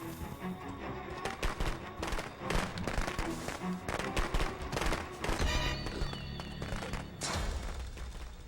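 Firecrackers in the Friday the 13th video game crackle and pop in rapid irregular bursts, loud and close, layered over game audio with low thumps throughout.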